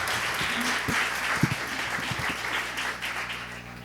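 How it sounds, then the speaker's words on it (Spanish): Audience applause welcoming a speaker to a lecture session, a steady wash of many hands clapping at moderate loudness, with a few lower knocks and a faint hum beneath. "Lo recibimos con un fuerte aplauso"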